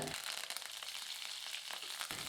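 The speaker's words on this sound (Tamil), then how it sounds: "கடுகு உளுந்து பொரிஞ்சிருச்சுங்க" Mustard seeds and urad dal sizzling and popping in hot oil while tempering for ridge gourd sambar, a steady close crackle that continues throughout with no talk.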